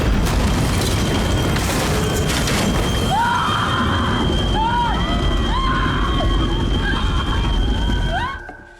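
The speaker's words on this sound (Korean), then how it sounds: "이미 나눠준 선물들이 폭발해버리죠." Handed-out gifts exploding in a horror film: a loud, sustained booming rumble and crash that fills the scene, with wailing, whinny-like cries rising over it before the din cuts off abruptly near the end.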